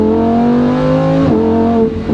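A 2020 Lamborghini Huracan EVO RWD in Corsa mode with ESC off, held at high revs for a launch off the line: a loud, steady, close engine roar whose pitch dips and shifts partway through, with no talking.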